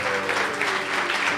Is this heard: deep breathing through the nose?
no